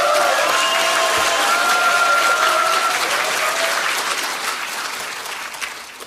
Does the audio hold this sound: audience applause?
yes